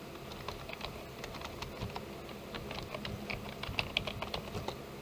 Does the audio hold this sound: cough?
no